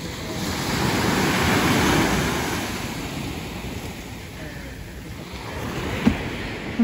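Sea waves wash onto a beach on the island of Elba in Tuscany, a steady broadband surf roar under gusty wind noise on the microphone, swelling early and easing off, with a brief knock near the end.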